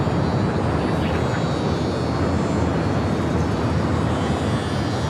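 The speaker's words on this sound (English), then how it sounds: "WestJet 737-700 now heading out for a north side takeoff." A WestJet Boeing 737-700 taking off from Los Angeles airport, a loud, continuous broadband engine roar holding steady throughout without a break.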